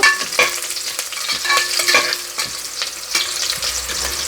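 Onions and green chillies fry and sizzle in a pan for pongal, with repeated scraping stirs from a spoon cutting through a steady crackle, close and fairly loud, with no voices.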